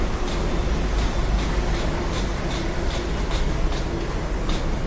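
A Delhi Metro train runs along an elevated line in Patel Nagar, New Delhi, with a steady loud rolling rumble and faint rhythmic clicking from the wheels on the track.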